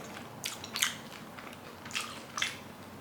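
Small white fish cooked in beef fat, bones included, is chewed in a series of close, crisp bites and crunches spaced a second or so apart in a quiet room, with no talking.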